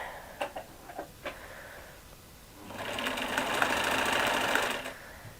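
A domestic sewing machine runs a steady stitching burst along a fabric edge for about two seconds, loud and close, preceded by a few soft clicks and taps as the material is positioned; no one speaks.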